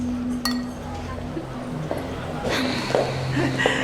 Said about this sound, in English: Cheers.